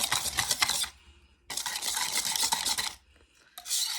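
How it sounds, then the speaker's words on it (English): A spoon whisks dalgona whipped coffee in a cup, rapid close scraping and clinking in two long bursts separated by brief pauses, then starting again. "So I'm just mixing it."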